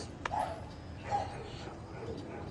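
Two faint dog barks sound from some distance, about a second apart, over a quiet, steady background hiss.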